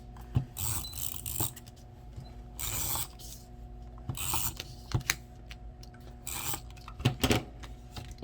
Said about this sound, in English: I'm just gonna use tape runner for this